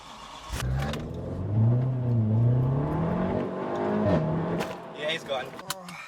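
A BMW M3 E90 V8 engine revs up and holds a rising, steady roar, then drops away, with voices talking over the engine noise.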